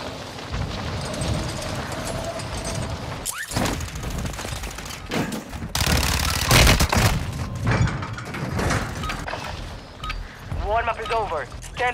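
Gunfire in Call of Duty: Modern Warfare II, bursts of shots and impacts scattered through game sound, with someone talking over the action.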